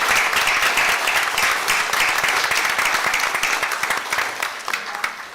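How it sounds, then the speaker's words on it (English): A crowd of parents and families gives a sustained round of applause at a school board meeting, dense and lively at first, then thinning out toward the end with a few scattered claps. "I would like to recognize a round of applause for all of our families"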